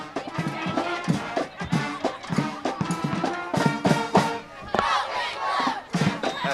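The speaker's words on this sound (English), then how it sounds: "Sound in the background is high school football in America. Cheerleaders leading the crowd." A high school football crowd chants and cheers in rhythmic bursts as cheerleaders lead them at a game between Weymouth and Attleboro. The voices come in loud, repeated call-and-response waves with a steady din underneath.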